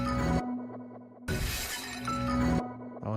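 Dense glass-breaking effect with a bright shattering crash in the middle, set between stretches of sustained tonal music-like sound, loud and close with no talking.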